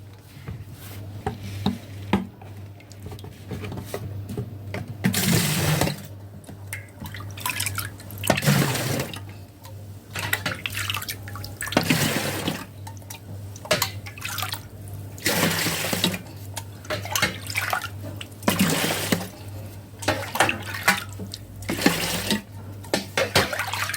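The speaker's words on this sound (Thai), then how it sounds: "ไวน์ขิงคาราเมลของเราก็ได้เป็นอุณหภูมิห้องแล้วนะ พร้อมที่จะเทลงถังสำหรับบ่มแล้วนะคะ" Homemade caramel ginger wine is poured into an aging barrel in repeated splashy bursts of liquid, separated by quieter pauses with drips and handling knocks, close and fairly loud, under a low steady hum.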